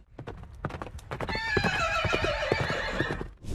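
A horse gives a loud, long neigh lasting about two seconds, with quieter hoof clops and movement sounds around it.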